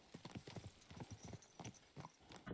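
Horse hooves clip-clop in a steady rhythmic gait in Kingdom Come: Deliverance II, a quiet string of sharp thuds that keeps going without a break and with no talk over it.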